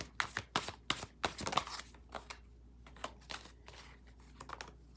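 A deck of cards is shuffled in quick, uneven riffling bursts, crisp clicking flutters close by, with brief pauses between.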